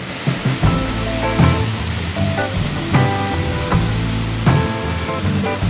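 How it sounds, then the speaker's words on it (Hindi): Dainthlen Falls near Cherrapunjee in Meghalaya, running low outside the rainy season, gives a constant rushing roar beneath music with plucked, rhythmic notes. "ये है दैंथलेन फॉल्स।"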